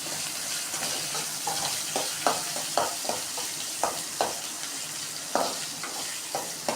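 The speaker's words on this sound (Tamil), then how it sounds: "நல்லா வதக்குறோம் பாருங்கள்." Ginger and garlic sauté in a pan for cauliflower curry, a steady close sizzle punctuated by a regular series of spatula scrapes and taps against the pan, with no voices.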